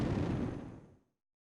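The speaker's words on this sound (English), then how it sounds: "slowly fade out towards the return of explosions and gunfire" A single muffled boom from an explosion in a Great War battle scene, a dense low rumble that fades out within about a second.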